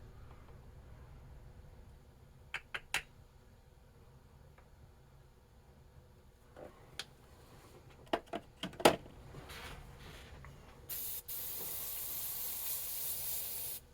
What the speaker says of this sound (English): I always like to spray test before when I add new paint